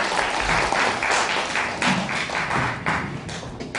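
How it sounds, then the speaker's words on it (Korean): An audience at a literary concert for young writers claps steadily for a few seconds, a dense, moderately loud patter of many hands with occasional louder claps, and no talking over it. "여러분 박수 부탁드립니다."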